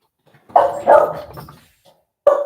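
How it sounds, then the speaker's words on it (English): A dog barks several times in quick succession nearby, loud sharp woofs with a short pause before another bark. "Those are my dogs."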